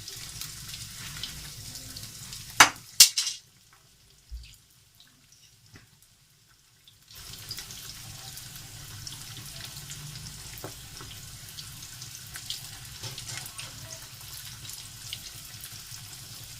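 Fish frying in fully heated oil, a steady crackling sizzle broken by a few sharp pops and a near-silent gap of several seconds before the frying resumes at an even level.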